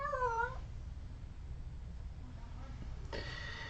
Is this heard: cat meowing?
yes